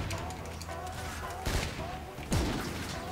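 Sniper rifle shots in the video game Infinite Warfare, two distinct sharp reports about a second apart over a steady game background hum, with no talking.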